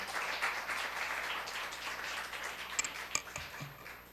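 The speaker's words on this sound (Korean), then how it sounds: "목사님 나오실 때 박수로 환영하도록 하겠습니다." A church congregation claps to welcome the pastor to the pulpit, soft diffuse applause that thins out toward the end, with a few knocks and a brief voice.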